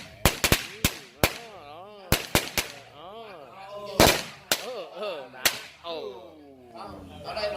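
Firecrackers exploding at a home gathering in Florida, a string of sharp loud bangs scattered irregularly across the clip, some close together, while people talk and shout over them.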